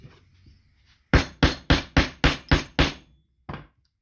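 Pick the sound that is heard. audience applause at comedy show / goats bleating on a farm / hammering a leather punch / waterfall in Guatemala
hammering a leather punch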